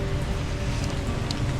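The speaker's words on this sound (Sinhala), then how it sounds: "මේ වෙලාවේ හොඳ වැස්සක් සෙට් වෙලා තියෙන්නේ" Heavy rain pours down in Singapore's Chinatown near buildings and canopies, a dense, steady hiss of drops spattering on surfaces, loud and unbroken with no voices.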